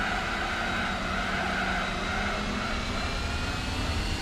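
Mazda RX-8 engine in the racing video game Gran Turismo 4, a steady high-revving rotary drone held loud and constant throughout, with no voices.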